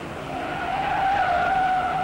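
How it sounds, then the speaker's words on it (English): A 1957 stock race car slides through a dusty dirt turn at Darlington at about 115 mph, a loud continuous tire skid and engine roar holding steady for two seconds with no voices. "Owens slides and recovers at 115 miles an hour."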